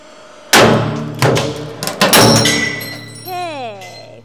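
A steel ball bearing is crushed in a 40-ton press: one sudden, very loud crack is followed by several sharp bangs and a fading ring, then a voice exclaims briefly near the end.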